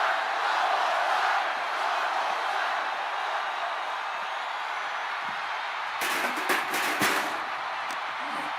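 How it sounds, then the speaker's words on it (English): Loud arena crowd roar in the WWE 2K25 wrestling video game during a Roman Reigns versus Brock Lesnar match, a steady dense wash of noise throughout with a brief burst of sharper cheering near the end. "when you can't hear yourself think because the crowd's so loud"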